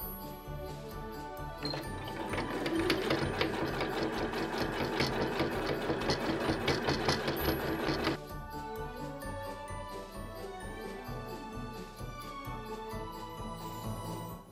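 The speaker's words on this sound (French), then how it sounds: "je vais poser mes deux sapins l'un sur l'autre et faire une couture au milieu" A sewing machine runs a steady, fast-rattling stitch down the middle of two stacked fabric Christmas-tree panels for an Advent calendar, loud and close for several seconds before stopping, followed by quieter handling sounds.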